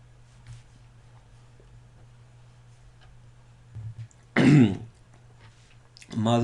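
A man coughs and clears his throat a couple of times, close and fairly loud, against a quiet room with a faint steady hum and a few small clicks.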